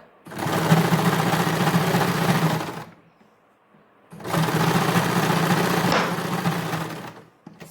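A sewing machine stitching a decorative sleeve design runs in two long, loud, steady bursts of rapid needle chatter, separated by a short quiet pause.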